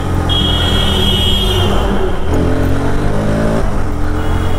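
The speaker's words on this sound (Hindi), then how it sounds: "और ये R15S भाई अच्छा गाड़ी है।" Yamaha R15S motorcycle engine running steadily while being ridden, a loud continuous drone with a gear-shift drop in pitch near the end, plus a faint high whine.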